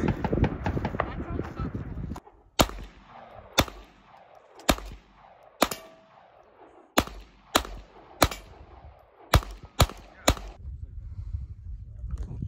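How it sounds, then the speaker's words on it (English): Gunshots of different calibers fired at Alibaba forged wheels, aiming at spokes and barrel: about a dozen sharp, loud cracks at irregular intervals, each with a short decaying tail, after an opening stretch of rustling noise. "We'll see if we can put some bullets through the spokes, through the barrel, different calibers."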